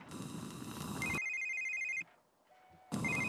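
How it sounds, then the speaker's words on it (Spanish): A telephone rings in The Sims 3 video game with a bright, electronic trilling tone. One ring plays, a short quiet pause follows, and the next ring starts. The sound is clear and alone, with no talk. "a alguien le está sonando el teléfono, contesten"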